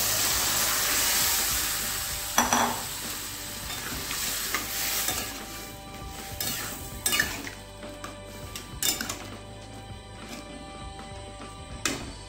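Tarka dal poured into a hot pan with fried egg for dhaba-style egg tarka, followed by sizzling and spoon stirring; a bright hiss fades into scraping and clinking utensil sounds, close and with no talk.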